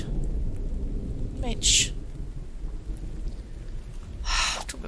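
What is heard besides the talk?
rain and thunder in the video game The Infected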